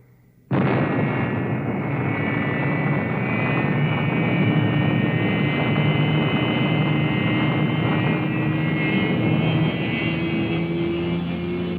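A rocket spaceship engine ignites suddenly and then holds a loud, steady roaring rush with a faint whine on top, continuing unbroken to the end.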